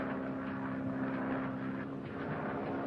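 An airplane in flight, heard as a steady, continuous engine drone with a constant low hum, close and unbroken for the whole stretch with no voices.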